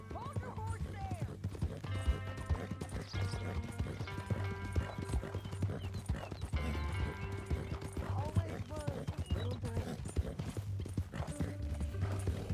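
Horse hooves clip-clop steadily in Red Dead Redemption 2, a close, even rhythm of hoofbeats running throughout, with occasional snorts and characters talking over it.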